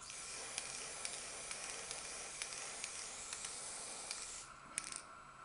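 Chrome spray paint hissing from an aerosol can onto G1 Transformers toy bumpers, a steady close soft hiss with faint rattling ticks in short pauses before it eases off near the end.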